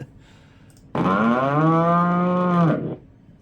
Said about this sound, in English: when you look at a container like that and it just randomly turns into a cow